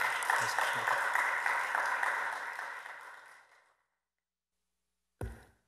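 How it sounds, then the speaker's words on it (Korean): A church congregation gathered for a dawn prayer service claps in welcome for a missionary, a broad wash of applause that fades out over a few seconds into silence before a brief thump. "우리 성도님들 가정에서 또한 있는 자리에서 박수로 환영의 마음으로 담아서 모시도록 하겠습니다"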